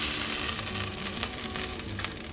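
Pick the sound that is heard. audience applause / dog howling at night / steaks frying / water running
steaks frying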